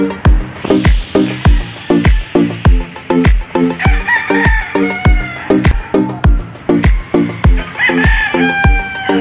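Several roosters crow one after another at a Palawan game farm over a fast, regular percussive beat, with loud clucking and crowing layered through.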